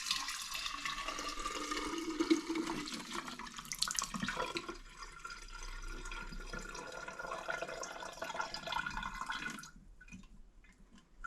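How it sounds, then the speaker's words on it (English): Limoncello liquor pours steadily through a strainer into a jar, a continuous close splashing trickle that runs for several seconds before stopping abruptly. "I'm gonna do it in the jar right now, using a strainer."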